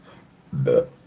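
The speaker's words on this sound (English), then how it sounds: "burping on camera like that" A single short, low burp up close after a brief quiet moment.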